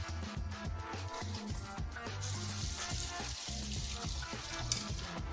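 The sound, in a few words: potatoes frying in overheated oil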